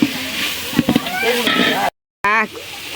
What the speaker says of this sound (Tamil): இஞ்சி பூண்டு பேஸ்ட்டோட எல்லாத்தையும் இது மாதிரி நல்லா தேவையான அளவுக்கு கிண்டிக்கலாம்.